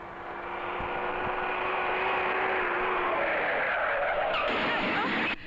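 A car skids hard with a long, loud tire squeal held for several seconds before cutting off abruptly, dominating a dramatic movie scene.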